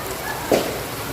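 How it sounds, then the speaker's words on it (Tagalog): Heavy rain pouring steadily during a flood, a dense close hiss of drops on surfaces filling the whole moment without voices. "napakalakas po ng ulan ngayon"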